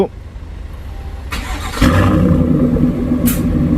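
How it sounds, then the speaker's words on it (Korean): A Chevrolet Tahoe engine with a Brillante valved exhaust cranks and fires up with a sudden loud, deep burble from the exhaust, then settles into a strong, rumbling idle nearby. "시동 걸 때 이렇게 상남자다운 가변 배기음이 잘 나옵니다"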